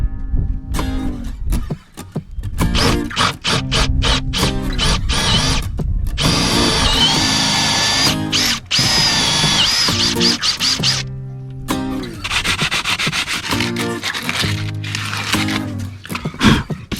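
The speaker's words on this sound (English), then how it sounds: "this is the only 3/4 drill bit that I have" A power drill with a 3/4-inch bit runs loudly in long bursts, whining and grinding while boring a large hole, with brief pauses between runs and a high squeal at times.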